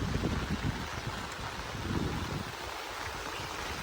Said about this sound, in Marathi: एकदम जोरात वारा सुटलाय पाऊस पण एवढा पडतोय